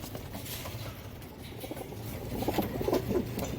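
Fancy pigeons in a loft coo softly and steadily, a low murmuring that swells a little toward the end.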